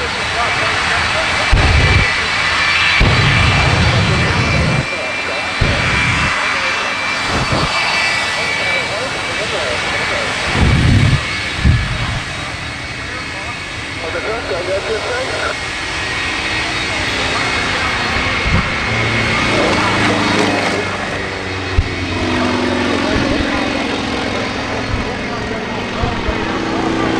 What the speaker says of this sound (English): This is the Shockwave Jet Truck.